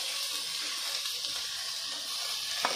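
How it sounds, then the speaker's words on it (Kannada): Capsicum fries in a pan after onions turn golden for millet bisibelebath, a soft, even hiss that carries steadily throughout, quiet and close, with a small clink near the end. "ಕ್ಯಾಪ್ಸಿಕಮ್ ಹಾಕೊಂಡು ಫ್ರೈ ಮಾಡೋಣ."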